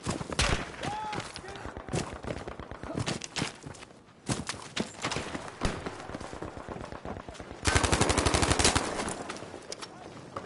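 Battlefield V video game gunfire: scattered shots and short automatic bursts, with a louder sustained burst near the end, mixed with footsteps and some talk.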